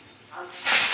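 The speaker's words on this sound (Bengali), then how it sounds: "তেলে একটু নুন ছিটিয়ে সর্ষে ফোড়ন দিলাম, যাতে তেলটা না ছিটকে আসে যায়।" Mustard seeds hit salted hot oil in a brief burst of sputtering and hissing that swells loud toward the end, a close, bright spattering sizzle.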